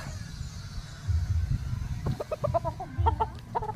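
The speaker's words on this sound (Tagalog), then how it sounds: "Mabait, friendly cock." A friendly brood cock rooster clucks in short bursts close by, with soft low farmyard rumbling and scattered clucks and chirps from other fowl.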